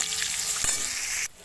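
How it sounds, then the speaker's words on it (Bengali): Salted eggplant slices sizzle steadily in hot oil, a dense, loud frying hiss that cuts off abruptly near the end. "দেখো তেল গরম হয়ে গেছে, আমি বেগুনটা ছেড়ে নেওয়ার পরে"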